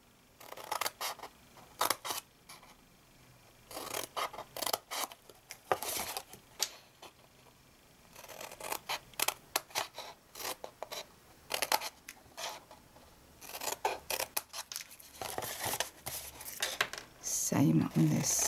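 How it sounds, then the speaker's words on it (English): Scissors cut small wedges out of scored card for a handmade gift box, with repeated crisp snips in short clusters separated by pauses, close and clear, with a brief voice near the end. "now we're going to cut up for our box in the normal way, cutting out little wedges"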